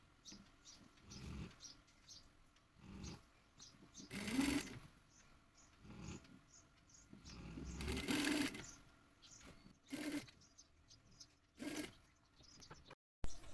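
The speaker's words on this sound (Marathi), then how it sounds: "आणि खाचेत शिलाई मारायची आणि हलके थोडंच करायचं" A domestic sewing machine stitches fabric piping in several short bursts of rapid whirring, separated by pauses filled with faint handling and rustling; fairly quiet and close, with no talking.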